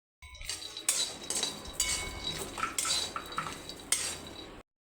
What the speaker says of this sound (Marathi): शेंगदाणे भाजून घेऊ